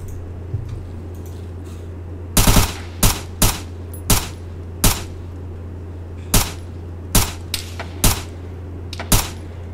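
Suppressed gunfire from a Steyr AUG A1 HBAR SD in Arma 3 lands as sharp, loud shots, first a quick burst and then single shots spaced about a second apart, over a steady low hum.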